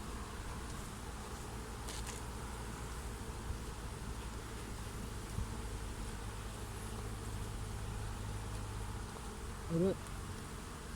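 Honey bees hum around an open hive during a honey harvest, a low continuous buzz throughout with a brief louder burst near the end.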